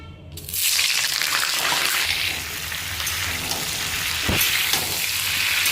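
Cauliflower pieces sizzle and crackle steadily in hot mustard oil in a wok, a dense, close frying hiss that holds throughout, with a brief sharper spatter midway and no talking.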